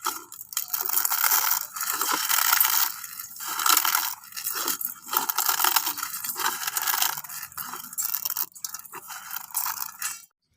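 Dry Maggi noodles are crushed by hand into crumbs, giving repeated close, crunchy crackling and scraping bursts separated by brief pauses.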